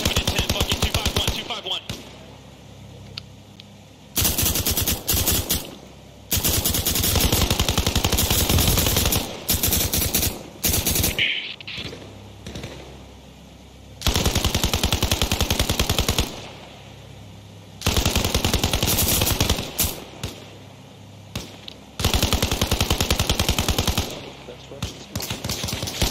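Machine-gun fire in the ARMA Reforger military video game, repeated long automatic bursts of a few seconds each separated by quieter gaps, loud and close, with some talk in between.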